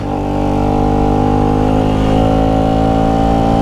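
A KTM Duke 250 motorcycle engine held at high revs, a loud, steady buzzing drone with strong harmonics that cuts off sharply at the end, close to the microphone.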